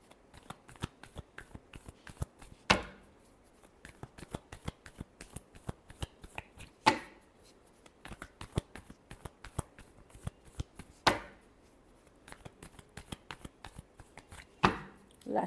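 A deck of tarot cards being shuffled over and over, crisp riffling patters broken every few seconds by a louder slap or bridge of the cards, close and alone with no talk.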